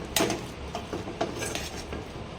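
Spoon stirring coriander and lemon juice into a potato masala filling for Bombay masala toast, a few light clinks and scrapes against a metal pan, close and moderately quiet with no voices.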